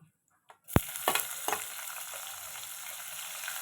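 Mustard seeds, dried red chillies and garlic fry in hot oil, a sharp crackle followed by a few pops and a steady close sizzle that holds to the end, with no talking.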